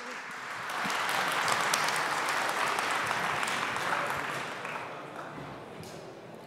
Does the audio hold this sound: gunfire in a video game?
no